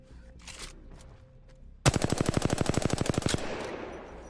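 A light-rounds automatic gun in the video game Apex Legends fires a rapid burst of about twenty evenly spaced shots, loud and close after a quiet lead-in, ending with a brief tail.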